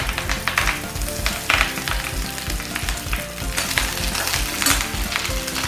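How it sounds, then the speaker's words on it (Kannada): Curry leaves hit hot oil for a Karnataka greens chutney. They give a loud, dense, continuous crackling sizzle that stays close and busy throughout. "ಎಣ್ಣೆ ಹಾಕೊಂಡ್ಮೇಲೆ ಇದು ಕರಿಬೇವಿನ ಸೊಪ್ಪು ಹಾಕೊಂಡಿರ್ತೀನಿ"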